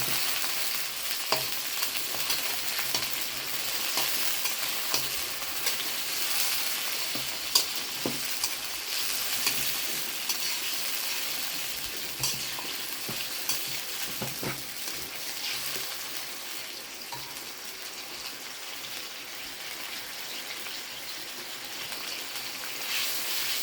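Food frying with turmeric and salt in a pan while being stirred, a continuous close hiss and sizzle with scattered spatula scrapes and pops, unbroken throughout.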